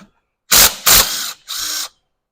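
Three quick ratcheting bursts from a wrench loosening a 12 millimeter ground bolt for the transmission ground wire on a Toyota RAV4, close and loud with brief pauses between.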